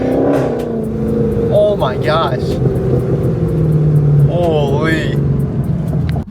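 A Dodge Scat Pack car revs hard at close range, a loud sustained engine roar with rising and falling pitch sweeps, while people exclaim excitedly over it.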